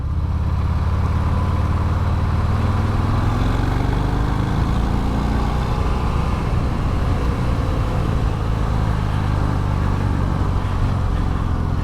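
A 2021 Harley-Davidson Fat Bob motorcycle riding, a loud continuous engine drone with rising and falling pitch under steady wind rush, no talking.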